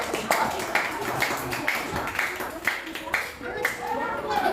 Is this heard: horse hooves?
no